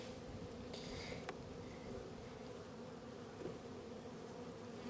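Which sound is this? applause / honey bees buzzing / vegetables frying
honey bees buzzing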